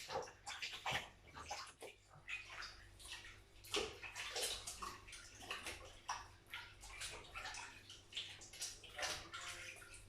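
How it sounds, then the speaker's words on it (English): Running water from a kitchen tap splashes steadily over hands being rinsed during baking, a continuous broadband wash with small irregular splashes throughout, fairly close and without talk. "I'm just giving my hands a rinse."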